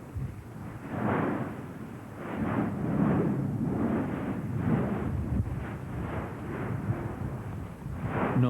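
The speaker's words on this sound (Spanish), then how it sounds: "una erupción dentro del cráter cuyas explosiones arrojan lava fundida" Explosions from a volcanic eruption inside the crater, throwing molten lava, make a continuous series of deep rumbling booms. They are loud and distant-sounding and surge in repeated pulses with no voices.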